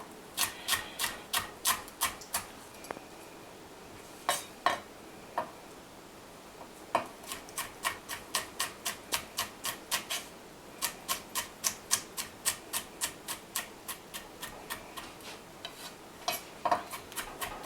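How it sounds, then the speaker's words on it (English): Rapid, crisp knife chops on a cutting board while a jalapeno pepper is finely minced, coming in quick rhythmic bursts with short pauses, close and clear with no talking. "we're going to very finely mince this jalapeno pepper here"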